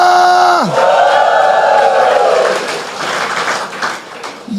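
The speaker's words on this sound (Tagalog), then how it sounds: "Malakas sa palakpakan, may kasamang hiyawan" A church congregation bursts into loud applause mixed with shouting, rising out of a brief sustained tone into a broad roar of clapping and cries that fades somewhat toward the end.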